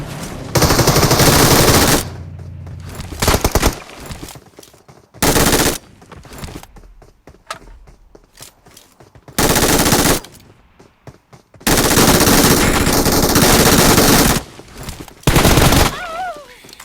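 Bursts of automatic gunfire from the mobile battle royale game PUBG Mobile, several loud sustained volleys of rapid shots separated by quieter gaps, with no talking.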